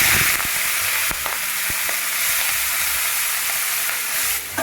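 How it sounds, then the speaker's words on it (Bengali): Shrimp coated in salt and turmeric dropped into hot oil in a wok, a loud close hissing sizzle that fills the whole stretch, broken by a few clicks from a spatula. "এবার আমি লবণ হলুদ মিশিয়ে নেওয়া চিংড়ি মাছগুলো দিয়ে দেবো।"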